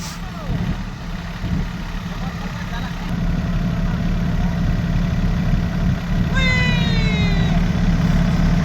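Swaraj Target and Farmtrac tractor engines run steadily at about 1500 RPM during a speed test, a continuous loud low rumble from close by with a brief rising whine partway through.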